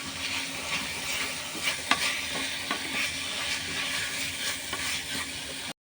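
A chicken ball mixture with boiled potato and soy sauce is stirred in a pan, giving a steady soft sizzle with scraping strokes and one sharp clink near the middle, close and continuous, without talk.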